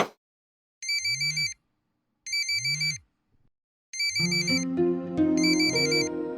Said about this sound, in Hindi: इस वक्त किसका फोन है?